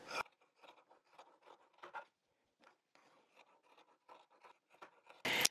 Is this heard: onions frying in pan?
no